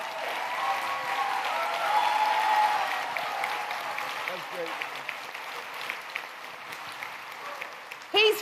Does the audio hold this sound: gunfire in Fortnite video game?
no